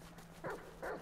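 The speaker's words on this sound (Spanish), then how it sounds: "Hay más perros, si es que hay otro perro ahí." Two short barks from a dog in the video game GTA V roleplay, moderately close, spaced about half a second apart over a steady low hum, with no talking.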